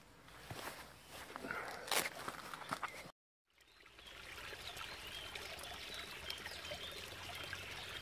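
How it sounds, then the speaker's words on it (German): Water flowing at an old water tunnel on a hiking trail, a steady outdoor rushing and trickling that runs on after a brief cut, with footsteps and rustling earlier. "Hier ist der alte Wasserstollen."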